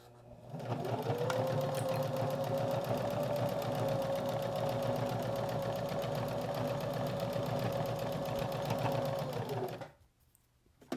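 A domestic sewing machine runs one steady continuous stitching burst on a fabric seat belt cover, close and fairly loud, then stops abruptly with a short quiet moment at the end.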